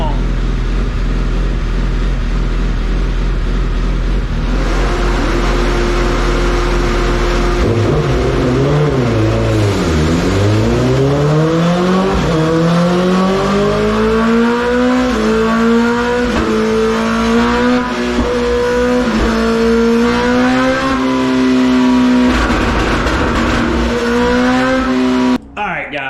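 Honda CBR1000RR motorcycle with race tools fitted, revved on a dyno: the engine idles, then sweeps up through the revs into a loud sustained high-rpm scream before cutting off abruptly, with loud cooling fans running underneath.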